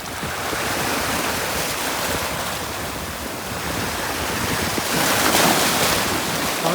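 Sea waves wash and surge steadily near a spot where a freshly caught fish is let back into the sea, a continuous broad roar with gusty wind buffeting and a slight swell toward the end.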